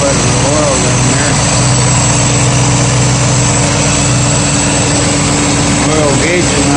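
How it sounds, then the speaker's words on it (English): 1965 Ford Mustang engine with a new aluminum radiator, running hot at a steady idle, a loud continuous rumble with fan whir close by and no talking. "Motor sounds much better."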